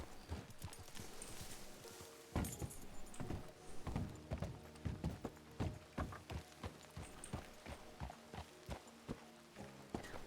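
Horse hooves clip-clop in the RedM game world, a close, fairly regular series of sharp knocks at walking pace lasting throughout, with no talk over them.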